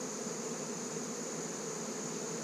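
Thick, unbroken droning of honeybees massed around a backyard hive as it is worked, close and even throughout, no talking.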